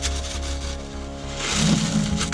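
Lead shot pellets rattling and shifting inside a cut-open shotgun shell, a close, steady gritty rustle that grows slightly louder toward the end.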